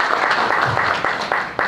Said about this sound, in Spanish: Un fuerte aplauso para el señor Luis de León, viceministro de Educación